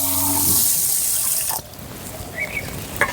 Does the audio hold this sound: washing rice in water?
yes